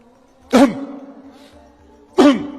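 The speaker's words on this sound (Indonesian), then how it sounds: "Gimana cara berdehem yang benar?" A person clears their throat twice, each a short harsh rasp separated by a quiet pause of over a second.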